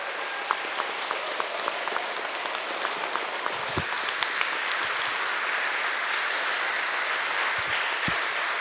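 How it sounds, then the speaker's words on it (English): A large audience at a TEDx event in Halle applauds the organizers, steady dense clapping sustained throughout and filling the room, with no voices over it. "let's give them a huge applause for making this happen tonight"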